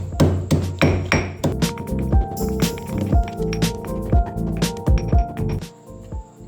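Curry leaves, garlic and ginger are pounded together in a home kitchen during fish fry preparation. The pounding makes a steady run of close, heavy thuds with dull clinks, about two strikes per second.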